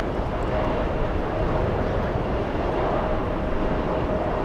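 Delta jet landing in a crosswind at JFK, a steady broadband engine roar holding loud and even throughout, with people talking faintly underneath.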